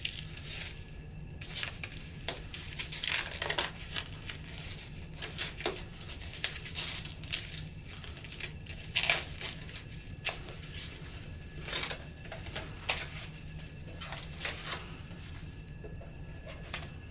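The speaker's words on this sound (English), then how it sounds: "Now that we've removed the tape and the foam from the" Tape and foam packing being peeled and pulled off a ProtectionPro Express 4 cutting machine, close, irregular bursts of rustling, ripping and squishing foam over a low steady hum, with no talking.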